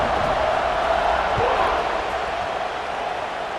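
A football stadium crowd roars steadily before a kickoff, a dense, loud wash of noise that holds throughout with no breaks.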